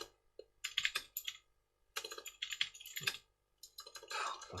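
Typing on a computer keyboard, close and fairly quiet, with irregular bursts of rapid clicking keystrokes separated by short pauses.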